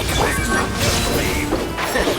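A crashing, shattering burst with whooshing effects as an illusion shatters in Genshin Impact, layered in a dense, loud mix of game sound effects.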